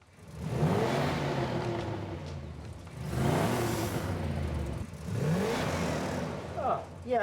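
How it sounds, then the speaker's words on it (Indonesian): Frank's car lets out loud, rising exhaust revs in repeated surges, with a voice talking over the engine noise. "mereka mendengar suara keras dari knalpot mobil Frank"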